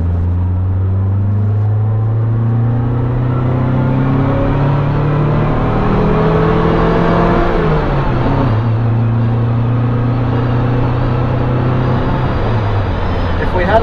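A 1970 Lancia Fulvia engine revs up through the gears from inside the car, pitch rising and dropping with each shift in a loud, steady drone, with a voice talking in the cabin.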